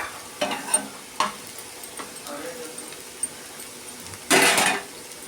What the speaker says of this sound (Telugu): మీడియం ఫ్లేమ్ పెట్టుకొని కలుపుకుంటూ ఫ్రై చేసుకోండి